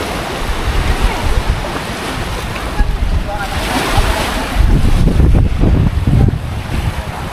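Ocean waves surge and crash against a sea wall on the Jakarta coast, a continuous loud roar of surf with wind buffeting the microphone and heavier low rumbling swells toward the end.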